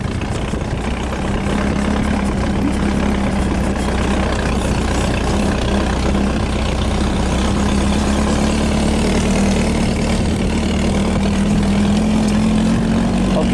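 A vehicle engine running on sand during a driving lesson, a loud, steady low drone held near and constant throughout, with a faint voice buried beneath it.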